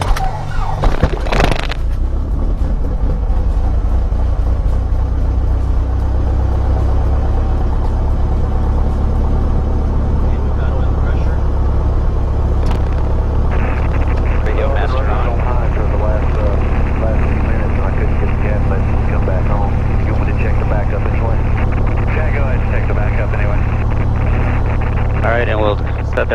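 A Mooney single-engine piston airplane's engine catches with a sharp burst and settles into a steady, loud, low idle drone, with a person talking over it.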